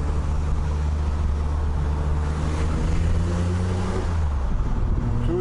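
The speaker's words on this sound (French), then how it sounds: "Toujours doucement avec l'accélérateur, on est en rodage." A freshly restored BMW Z1 being driven gently during engine break-in, its steady engine note and road and wind roar sustained and loud throughout, the pitch rising only slightly under light throttle.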